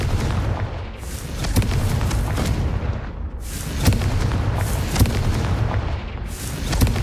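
The explosive Confringo spell from the Hogwarts Legacy video game detonates in repeated heavy booms, with several loud blasts a second or so apart and rumbling tails between them.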